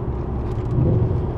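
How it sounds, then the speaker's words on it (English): A Subaru WRX STI drives along on a lightly rainy road, giving a steady, close low engine rumble and road drone with a slight swell partway through. "So we're out driving the car and it started to rain a little bit."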